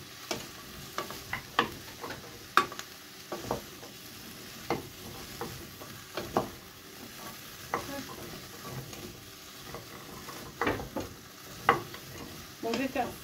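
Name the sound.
onion sizzling in hot olive oil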